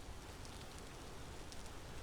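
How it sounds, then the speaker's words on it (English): Steady rain in the survival video game Vintage Story, a soft continuous hiss with no distinct drops, faint and unbroken throughout. "I wish it wasn't raining."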